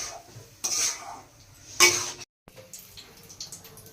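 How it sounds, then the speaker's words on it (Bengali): Marinated chicken for biryani is stirred in a pan: two short, bright scraping strokes stand out against a quiet background, with faint clinks and sizzle between them. "এটা আমি ভালোভাবে কষিয়ে নেব।"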